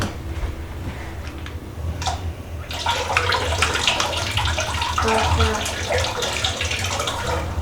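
Running water from a tap splashes as a gooey mixture is rinsed out by hand, starting quietly then turning into a fuller, steady gush with small splashes throughout.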